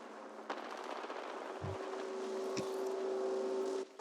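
Gunfire in a video game: a few sharp reports over a steady mechanical engine-like drone, with one sustained tone running underneath.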